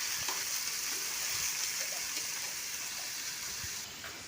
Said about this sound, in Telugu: ఆ వంకాయ ముక్కల్ని ఇప్పుడు వేసుకోవాలి